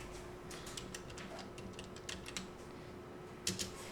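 Quiet, rapid clicking of computer keyboard keys in an irregular rhythm, close and soft, with no voices.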